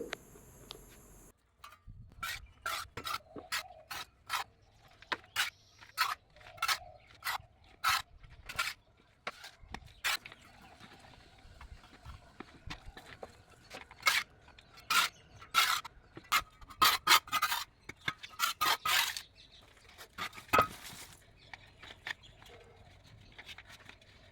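Soil mixed with dried cow dung and tea leaves is packed into a tub while repotting a rose, giving faint, close crunchy scrapes and dry rustles in irregular bursts, with one brief sound at the start.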